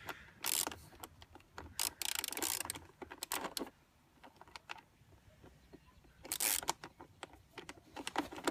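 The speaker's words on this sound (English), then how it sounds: "we're going to want to make sure that this bolt is really tight as well as the other one so it doesn't" A hand ratchet tightens a bolt on a motorcycle air filter housing in uneven bursts of fast clicking, loud and close, separated by short quiet gaps.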